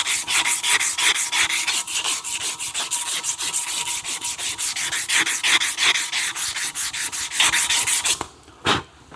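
A metal bicycle frame is hand sanded with 80 grit paper in a shop, rapid rhythmic back-and-forth rasping strokes, loud and close, stopping near the end with one last stroke.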